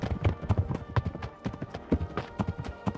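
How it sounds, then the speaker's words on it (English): Loud, close hoofbeats of a galloping horse in the video game Kingdom Come: Deliverance thud in a quick, uneven rhythm, filling the whole moment with no talking. "I think it's so loud with the galloping."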